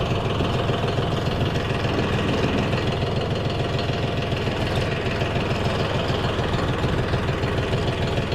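A DTZ 354U tractor engine runs at a steady, loud, close drone with a rough, knocking low-end pulse that holds unchanged throughout.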